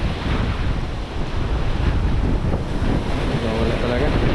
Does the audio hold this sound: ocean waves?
yes